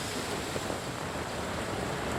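Strong coastal wind and surging seawater at dawn in Calayo, Nasugbu during rapidly rising tide, a continuous loud roar of surf and gusting wind noise buffeting the microphone with no talking.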